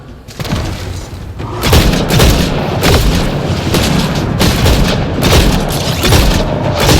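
A grenade blast in the sci-fi shooter Mass Effect: Andromeda: a loud, booming detonation rolls into a sustained barrage of heavy thumps and rumbling impacts, dense and close, with no talk.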